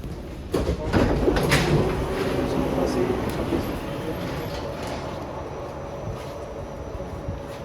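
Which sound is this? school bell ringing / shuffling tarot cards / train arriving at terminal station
train arriving at terminal station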